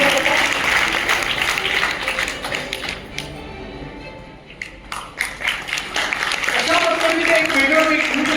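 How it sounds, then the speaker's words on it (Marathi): Applause at a Krishiratna agricultural award ceremony honouring farmer Ganesh Rathod, a broad crowd clapping that dips briefly before rising again, with background voices. "जोरदार टाळ्या वाजवणे"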